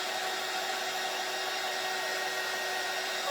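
Hair dryer blowing steadily to dry a coat of paint on a vintage frame from a kit, a constant close-up whooshing hiss with no break.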